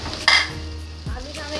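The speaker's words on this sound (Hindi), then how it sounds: "अच्छी तरह से भून लूंगी" Potatoes and green chilies stir-fried in a hot pan, with a sharp scrape of the spoon followed by steady sizzling and a second stirring pass, close and fairly quiet.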